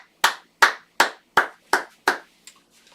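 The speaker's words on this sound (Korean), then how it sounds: "하나님께 영광을 박수 드립니다." Six sharp, evenly spaced bursts of clapping from a church congregation at a Sunday worship service, each crisp and close, followed by a couple of faint scattered claps as it dies away.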